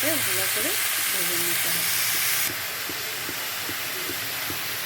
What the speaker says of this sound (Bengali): এখন শুকনো পালং শাকগুলো সব দিয়ে দিব ভালো করে ভেজে নিতে হবে